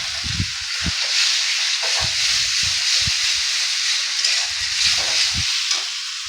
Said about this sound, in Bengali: রসুনটা আদাটা একটু ভাজা হয়ে গেলে এবার দেখো এই টমেটো, গ্রেট করা টমেটোটা দিয়ে দিলাম।